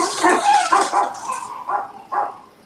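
Several dogs barking indoors in a series of loud, close barks and yips, bursts spaced irregularly before trailing off into a couple of separate final woofs, with no speech over them.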